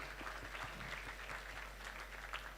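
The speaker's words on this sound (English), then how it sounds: "Can you give them a round of applause?" An audience applauds at a high school graduation ceremony in Kampala, a fairly faint, continuous patter of many hands clapping, heard alone without talk.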